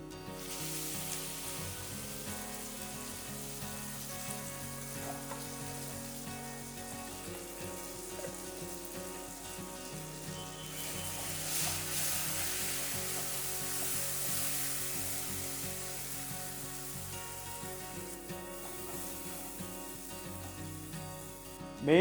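Ground ghee roast masala fries in a pan for prawn ghee roast, a soft continuous sizzle and bubbling at low level, fairly close, without talk.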